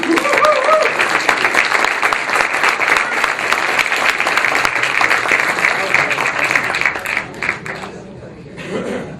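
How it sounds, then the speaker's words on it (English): Loud, sustained applause from a seminar audience welcoming a man to the stage, with some voices and chuckles mixed in, thinning out near the end. "let's give him a round of applause, a nice welcome"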